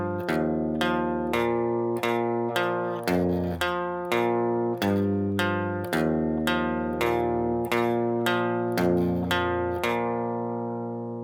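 The guitar riff plays alone as a steady run of distinct plucked notes, a dozen or so evenly spaced attacks ringing clearly one after another with no talking.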